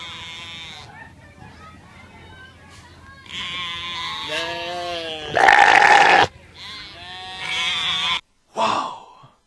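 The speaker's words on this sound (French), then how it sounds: "est-ce que vous avez déjà vu une chèvre qui bégaye avec un pur cri de death metal?" A goat gives harsh, stuttering bleats that break into a raspy, scream-like cry, loud and close, with quieter voiced stretches around them and a sharp final burst.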